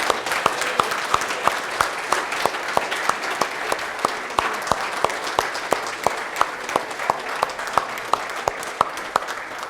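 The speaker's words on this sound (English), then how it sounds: "let's give it a round of applause." An audience at a Holocaust memorial service in a church hall applauds steadily for nearly ten seconds, with many hands clapping in a dense, even patter of sharp, distinct claps.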